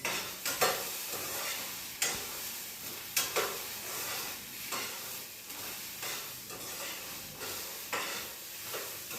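Spices with coriander and cumin dry-roasting in a pan, a soft steady sizzle broken by repeated scraping stirs every second or so, fairly quiet and close, with no talking.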